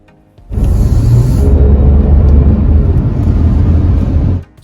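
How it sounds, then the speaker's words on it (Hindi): A Renault Kiger with a 1L petrol engine gives a loud, close, low droning rev under acceleration, held steadily for about four seconds before cutting off. "जैसे ही मैं गाड़ी को पुश करता हूँ, for example here you can hear the engine now."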